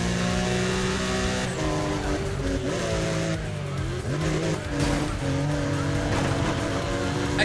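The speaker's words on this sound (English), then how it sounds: "Why do their Porsches sound different?" Racing Porsche engines in Need for Speed ProStreet on a raceway, a loud continuous drone that climbs and drops through gear changes, with tires squealing and skidding as the cars corner, steady throughout.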